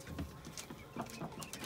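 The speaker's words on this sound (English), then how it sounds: "All the chickens are in here." Chickens in a coop, including a rooster and a molting hen, give a string of short, soft clucks and coos. The calls come in irregular bursts over low, steady background noise.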